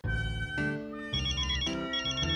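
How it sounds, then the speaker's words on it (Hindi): A melodic electronic phone ringtone plays loud and close, cycling through bright chiming phrases with no talking. "अरे अंजलि का फोन"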